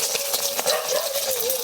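An egg fries in plenty of hot oil in a pan, giving a steady, close, loud sizzle with a fine crackle throughout and no voice over it.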